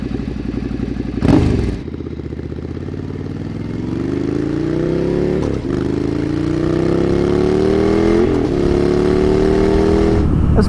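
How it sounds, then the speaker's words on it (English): A Ducati Desert Sled scrambler motorcycle ridden hard along a bendy road, its engine climbing steadily in pitch through each gear with a few quick shift breaks, loud and close with no talking. "let's see if the Desert Sled enjoys being hurried along a bendy road"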